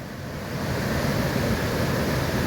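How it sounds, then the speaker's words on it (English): A steady roar of water pours over a sloping ledge roughly 8 to 10 feet long on the Housatonic River. The broad, dense rush is constant and close, with no voices. "there's a smaller waterfall right here"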